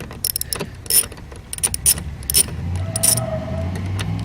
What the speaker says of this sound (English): Put it in your magnetic tray.